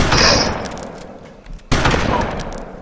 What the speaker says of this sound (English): Oh shit, someone's shooting.